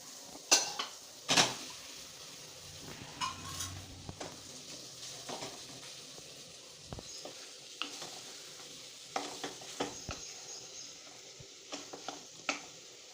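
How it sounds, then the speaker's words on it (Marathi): Boiled potatoes are stirred with spices in a pan for vada pav filling: a utensil scrapes and clinks against the pan in irregular knocks over a faint, steady sizzle. "सर्व मसाले मिक्स झाल्यानंतर आता बटाटे टाकायचे"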